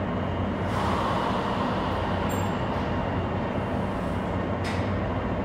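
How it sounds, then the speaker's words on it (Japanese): A Nagano Electric Railway limited express, a red-bodied train with white stripes, pulls away from Nagano Station in winter, giving a steady broad rumble that holds evenly throughout with a couple of faint high squeals. "特急電車が発進します。"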